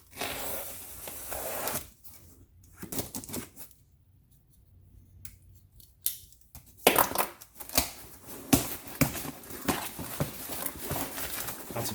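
Packaging from a car-part box is crushed and rustled by hand in rough, uneven crackling bursts, close and fairly loud. A quieter stretch falls in the middle, and the handling grows livelier toward the end.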